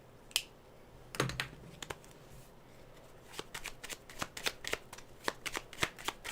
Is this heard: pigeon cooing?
no